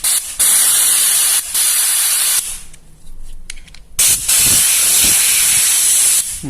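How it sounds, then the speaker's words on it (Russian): Compressed air blasting through the compressor of a pneumatic air horn to clear it out, loud close hissing bursts that start and stop several times with a quieter gap in the middle. "Берем, просто его продуваем в эти области."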